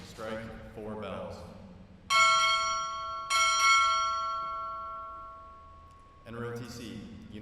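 A ship's bell rings at an indoor naval graduation ceremony, with sharp, loud strikes that ring on and slowly fade. A voice is heard before and after the strikes.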